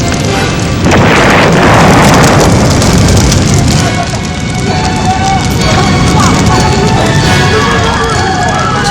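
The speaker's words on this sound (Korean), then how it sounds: "불을 지피던 직공의 실수로 신나통에 불이 붙으며 폭발을 한 것이었다" A can of paint thinner catches fire and explodes, heard as a loud, sustained rumbling blast with crackling debris and roaring noise that stays dense and heavy throughout.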